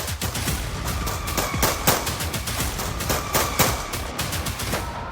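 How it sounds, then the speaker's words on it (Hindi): Rapid gunfire from a pistol and a rifle crackles in a dense, uneven burst of sharp reports, some close and loud, others fainter, repeating steadily throughout. "अचानक बारूद बरसने लगता है। ताबड़तोड़ फायरिंग होती है।"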